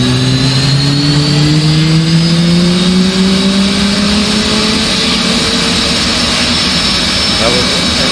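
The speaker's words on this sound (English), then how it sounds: "And there's the engine kickoff." An F/A-18C jet engine spools up during a cold start, giving a loud, steady roar with rising whining tones that climb in pitch across the span.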